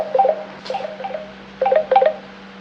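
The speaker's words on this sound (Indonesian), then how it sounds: "Iya, aku telepon Bu Idul" A phone is dialed in an urgent emergency call: short, clear electronic tones sound singly and in quick pairs across a few seconds, close and fairly loud over a steady low hum, with no talking.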